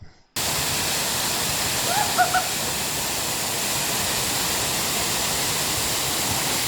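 Steady broadband rush of the Oothampaarai waterfall near Theni, a continuous roar of falling water that fills the whole clip, with a couple of faint voices briefly rising above it.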